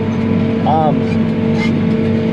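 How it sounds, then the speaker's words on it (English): Tractor pulling a seed drill through dry, dusty ground while drilling wheat, a steady loud engine drone running throughout the short stretch with no break. "We switched the tractors and drills."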